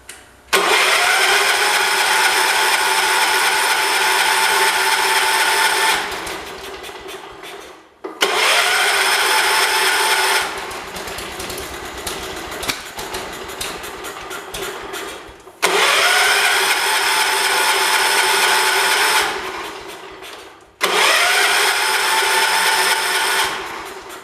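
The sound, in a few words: John Deere 210 lawn tractor engine running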